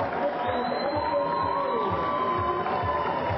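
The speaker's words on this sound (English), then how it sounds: "So great joy for the Zimbabwean spectators, terrific enthusiasm in the crowd" Zimbabwean spectators at a rugby sevens match roar and cheer after a conversion, a loud, sustained crowd din with whoops and shouts throughout.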